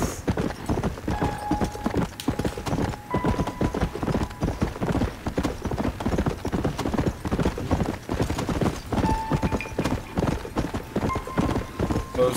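A horse ridden in Red Dead Redemption, its hooves striking in a steady, rapid clip-clop gallop that runs loud and unbroken throughout, with a few brief whinnies and whooshes over the rhythm.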